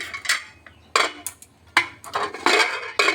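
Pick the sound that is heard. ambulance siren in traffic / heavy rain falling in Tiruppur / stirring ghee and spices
stirring ghee and spices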